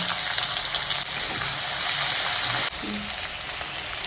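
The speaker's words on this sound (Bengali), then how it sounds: "পেঁয়াজগুলো ভাজছি" Sliced onions fry in ghee with bay leaves, cinnamon, cloves and cardamom, giving a steady close sizzle with occasional stirring scrapes and small clinks.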